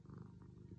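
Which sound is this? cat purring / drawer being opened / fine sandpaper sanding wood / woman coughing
cat purring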